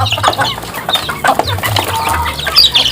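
A flock of chickens scrambling for feed clucks and squawks close by in a busy, overlapping chorus, with scratching and rustling among them.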